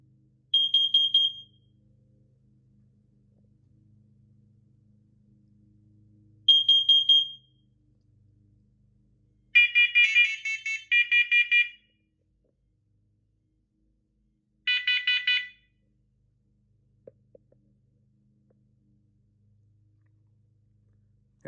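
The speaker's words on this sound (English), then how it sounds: "All of them alarmed in CO for a second." Wireless carbon monoxide alarms on a demo board sound in turn, each giving bursts of sharp, shrill electronic beeps separated by silent gaps, with a few faint clicks near the end.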